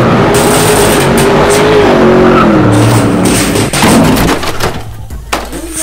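Kinsmart die-cast toy cars, an Audi R8 and an Alfa Romeo, race across the floor with a loud, close whirring and rolling sound and a wavering tone that slides up and down before trailing off into quieter rattles.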